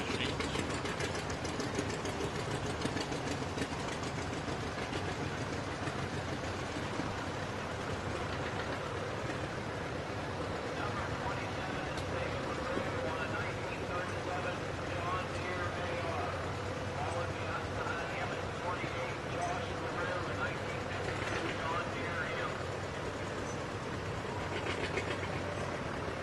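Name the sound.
restored vintage farm machines running in a parade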